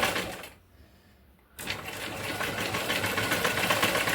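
A sewing machine stitches a blouse neck piece with a steady mechanical whirr and rapid needle chatter, pausing briefly near the start before running on continuously and close.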